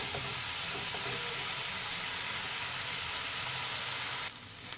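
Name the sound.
onion with ginger garlic paste frying in pan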